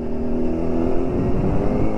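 A motorcycle engine runs steadily under a solo rider, a continuous close drone with faint rev changes throughout, no voices over it.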